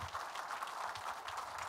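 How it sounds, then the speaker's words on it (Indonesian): An audience at a talk on Indonesia's dual citizenship law gives steady, distant applause, a soft, even wash of many hands clapping with no voices on top. "kita kasih tepuk tangan dulu untuk Pak Firdaus."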